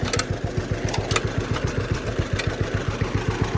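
An old tractor engine chugs steadily in high gear, its rapid, even low-frequency pulses thumping close and loud with a few faint clanks on top, no voices.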